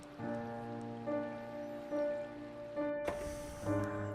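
Steady soft rainfall in the Minecraft video game, a continuous patter under sustained musical tones, with a brief brighter burst near the end.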